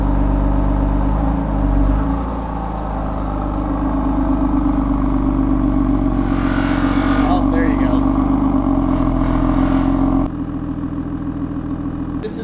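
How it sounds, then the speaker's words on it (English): A BMW F82 M4 Competition engine idles steadily up close at 1500 RPM on its stock exhaust, with a buzzing metallic exhaust rattle running over the low hum for several seconds. "you guys can hear what it sounds like at 1500 RPMs. There's the rattle."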